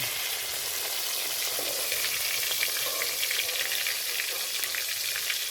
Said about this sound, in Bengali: মাছগুলো ভেজে নিয়েছি এবার তুলে নেব